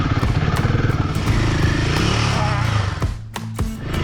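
A Royal Enfield Himalayan 450 motorcycle riding through Slovenia, its engine a steady close, loud rumble with rhythmic pulsing, rising in pitch before easing off near the end amid a few clicks and clatter, no talk.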